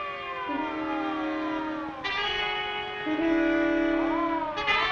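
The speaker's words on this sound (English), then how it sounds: "It's a siren. Probably an ambulance or a police car." A wailing siren rises and falls in long sweeping tones, loud and sustained, with a second pitch shift midway and another near the end.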